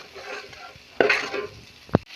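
Fish for a pickle fries in hot oil while being stirred and scooped, soft sizzling broken by a scraping stir and a sharp clink of utensil on pan.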